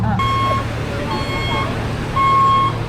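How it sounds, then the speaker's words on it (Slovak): Bus stop on Capri for the bus to Anacapri: a steady low engine idle with repeated electronic beeps at a high tone, sounding in three bursts close by over background chatter. "Nastupujeme na autobus do Anacapri."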